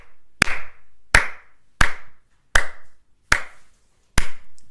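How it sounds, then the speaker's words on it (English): Six sharp hand claps in a steady, evenly spaced rhythm, close and loud, each with a short ringing room tail, performed alone in a quiet room to test an audio filter. "Look at the last signal when I clap."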